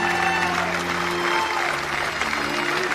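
A crowd in a church square applauds as a coffin is carried out at a funeral, with sustained, even clapping heard from a moderate distance, accompanied by tonal sounds and a murmur of voices.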